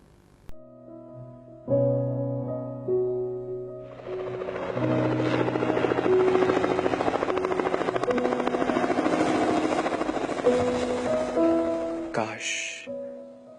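A helicopter sound builds in over music, its rapid rotor chop running steady and fairly loud for several seconds before cutting off, with speech-like tones around it.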